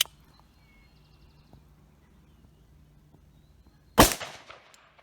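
A single .45 Super pistol shot, firing a 230-grain truncated cone bullet with light blue coating over 12.5 grains of Blue Dot powder and a CCI large pistol primer, cracks out sharply and loudly after several seconds of near quiet, then a short echo.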